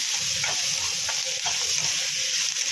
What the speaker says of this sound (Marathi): चांगला बदामी रंग येईपर्यंत भाजून घेऊया कांदा जो आहे तो लालसर होत आलेला आहे